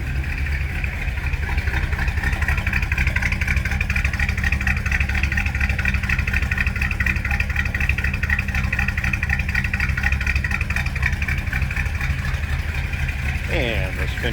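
A 1966 Chevrolet Impala SS two-door hardtop runs at a steady idle, heard from behind the car as a loud, continuous low rumble with light clatter that holds throughout.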